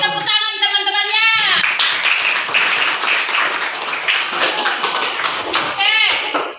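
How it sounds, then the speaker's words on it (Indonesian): Students in a classroom at a junior high school clap together, a dense burst of applause that fills most of the stretch, with children's voices heard at the start and end. "beri tepuk tangan teman-temannya."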